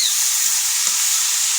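Eggplant, potato and cauliflower fry in hot oil while being stirred, producing a loud, steady close-up sizzle with a few faint scrapes and no talk.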